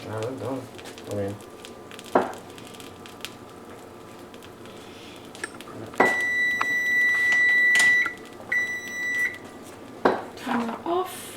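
An oven timer beeps in a kitchen where teriyaki and barbecue chicken are cooking, with a steady electronic tone sounding twice in a row amid dish clatter and people talking nearby.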